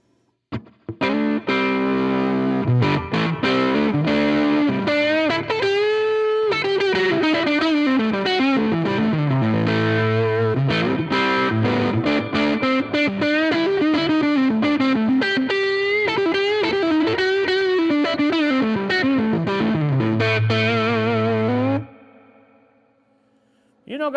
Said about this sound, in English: this amp does have some Fender-like tones, but it does, if you crank that tone knob up, it does get you into old Marshall territory